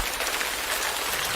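Steady rain falls without pause, a dense even hiss of drops hitting a surface, close and constant throughout with no voices.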